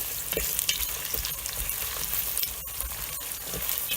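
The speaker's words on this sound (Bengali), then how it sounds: "পেঁপেগুলো ভেজে নেব" Green papaya pieces frying in hot oil with onions, a steady close sizzle with scattered stirring scrapes throughout and no voices.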